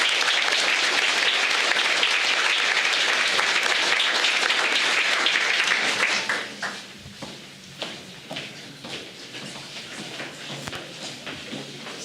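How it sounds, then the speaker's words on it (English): Audience applause at a county board of education meeting, dense and steady for about six seconds before thinning to scattered claps and shuffling. "Let's give them a big round of applause."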